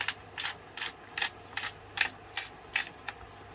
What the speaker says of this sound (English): Now we'll just put a few grinds of pepper in, just to give it a little bit more flavour.